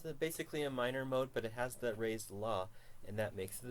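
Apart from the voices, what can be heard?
No everyday noises stand out.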